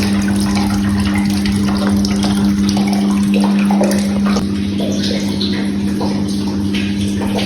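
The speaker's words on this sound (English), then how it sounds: "So there the water is draining." Water drains from a Hisense 16–17 kg fully automatic top loader washing machine, a steady loud gushing rush with a constant low pump hum throughout, close by and without talk.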